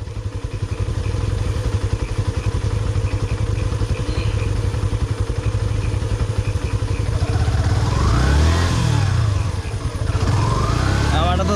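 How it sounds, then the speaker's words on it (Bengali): A motorcycle stuck on a rough road, its engine running loud and close with a steady throbbing beat, revving up harder near the end while people talk and shout over it. "আমার বাইক আটকে পড়ছে।"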